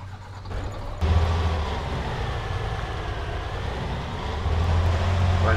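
A monster truck engine in the Arma 3 video game drones steadily, with a low rumbling hum that swells louder after a second and again near the end, no talk.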